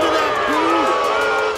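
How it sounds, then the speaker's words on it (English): Arena crowd at a wrestling event in New York booing a wrestler; a dense, loud sustained roar of many voices fills the space with no pause, a drawn-out low jeer rising and falling within it. "Listen to that boo! They hate him in here."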